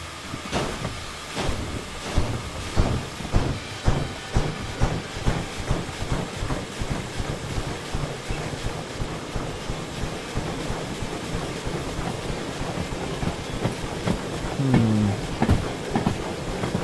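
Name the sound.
train pulling forward with caboose in Derail Valley video game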